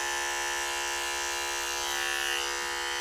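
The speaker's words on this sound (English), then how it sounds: "I'm attaching the clipper to the comb." Electric hair clipper run over a plastic comb while blending and fading straight, light-colored hair, a steady high-pitched buzz held close and constant throughout with no talking.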